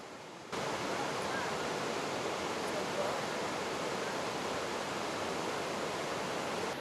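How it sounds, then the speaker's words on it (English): A creek cascade rushes beneath a bridge in Glacier National Park, a steady loud hiss of falling water that starts abruptly and continues unbroken, with no talking. "From the bridge, there's a great view of the cascade."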